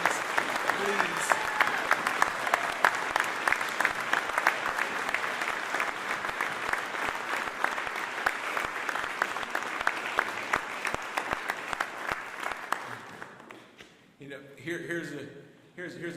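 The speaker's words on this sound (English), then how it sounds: "I want you to join me in giving a huge round of applause and welcoming the next police commissioner for the city of Philadelphia." A crowd in Philadelphia greets the naming of the city's new police commissioner with about thirteen seconds of sustained, even applause that tapers off before a voice begins speaking.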